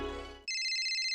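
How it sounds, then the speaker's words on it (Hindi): A telephone rings with an incoming call, a bright electronic ringtone that cuts in abruptly after a burst of background music and then sounds loudly and steadily, with a repeating warble, until the end. "दया का फोन"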